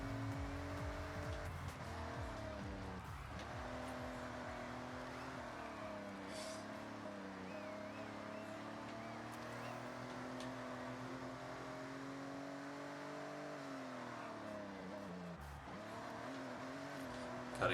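A race car in the Forza Horizon video game drones steadily with a harmonic engine note that rises and falls through gear changes, mixed with tire squeal, loud and continuous the whole way through.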